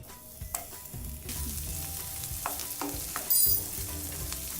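Onions frying in hot ghee in a pan, a crackling sizzle punctuated by clattering spoon strikes and scrapes against the pan, with a louder burst of hissing late on, no speech.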